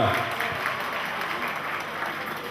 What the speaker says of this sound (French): On acclame, on acclame, on acclame.